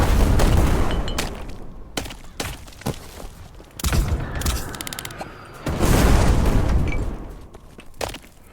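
Artillery bombardment in the game Black Skylands: repeated loud booms and sharp blasts arrive in irregular bursts, some clustered, with mechanical clanks between impacts.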